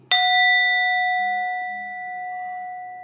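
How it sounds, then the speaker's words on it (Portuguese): A Tibetan singing bowl is struck once, giving a bright metallic strike followed by a long, pure ringing tone with clear overtones that slowly fades, close and alone with no speech. "Eu até trouxe aqui para vocês vamos dizer, uma tigelinha tibetana"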